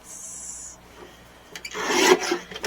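Paper trimmer slicing a sheet of red cardstock: a short, close rasping slide with quick scraping strokes near the end, heard alone without talk.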